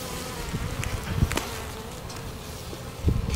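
Honeybees from a package swarm with a steady close buzz while the package is installed into a hive, with a few louder passes near the microphone and no talking.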